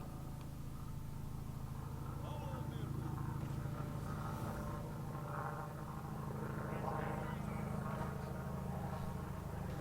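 A helicopter passes over a house, its engine a low continuous drone with rotor pulsing that swells in the middle, heard indoors and somewhat muffled.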